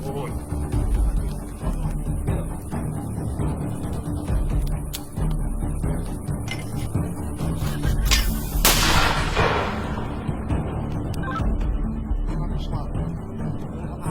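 A loud, sharp mortar blast cracks out in combat over constant rumbling outdoor noise, followed by a fading echo.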